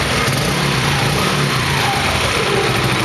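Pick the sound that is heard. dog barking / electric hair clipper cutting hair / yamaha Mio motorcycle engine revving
yamaha Mio motorcycle engine revving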